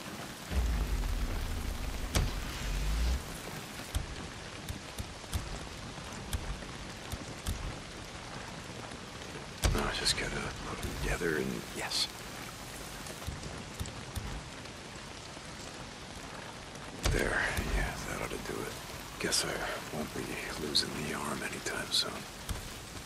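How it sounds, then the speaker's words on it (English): Heavy rain pours steadily over a camp in the Days Gone video game, a dense, loud hiss that lasts throughout, with rumbling swells and people talking now and then. "Well, not if it's pissing down rain."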